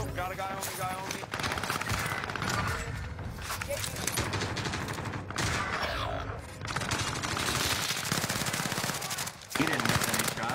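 Rapid automatic gunfire bursts and single shots crackle almost nonstop during a Call of Duty match, loud and dense, with voices talking over the shooting.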